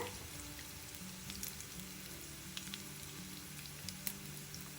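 Chana dal, urad dal, mustard and cumin seeds fry in hot oil for garlic rice, giving a faint, steady sizzle with scattered small pops and crackles and no talking.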